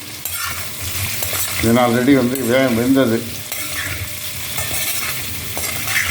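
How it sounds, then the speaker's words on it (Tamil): Steady frying sizzle with stirring scrapes as small onions and tomatoes sauté in oil in a pan, a person talking over it in the middle stretch. "இருக்கிற எண்ணெய்க்கு வதக்கினா போதும்"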